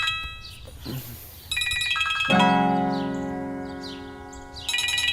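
A loud electronic phone ringtone with bright, repeating melodic tones starting partway through, preceded by a brief growl-like sound.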